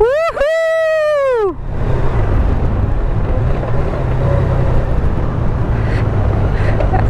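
Honda Goldwing 2018 ridden at speed, a voice whoops loudly at first, then steady engine drone mixed with heavy rushing wind noise continues.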